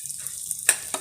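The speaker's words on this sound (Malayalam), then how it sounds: "നല്ല രീതിയിൽ വറുത്തെടുത്ത്" Ingredients for veg pulao fry in a pressure cooker, giving a soft, faint sizzle with a couple of brief scraping stirs close by.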